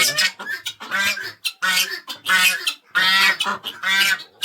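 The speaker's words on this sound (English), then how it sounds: "She's a brown Chinese goose." A brown Chinese goose honks repeatedly in loud, harsh bursts close by on a snowy homestead, alone without talk.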